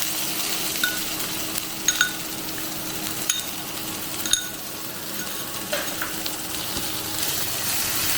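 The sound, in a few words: ground pea paste frying in a pan for kachori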